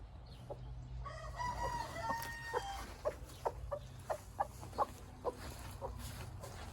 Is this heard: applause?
no